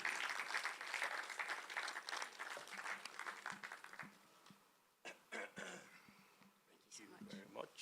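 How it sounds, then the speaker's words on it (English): An audience at a youth diaspora 7th anniversary event claps to welcome a commissioner to the stage, moderately loud applause that fades after about four seconds into scattered coughs and murmurs. "shall we all give a resounding round of applause"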